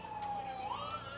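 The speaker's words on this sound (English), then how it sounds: "you probably noticed that a lot of sirens run by" A siren rises and falls in pitch, fairly faint and distant, while a baseball game goes on; the tone wails steadily throughout with no voices over it.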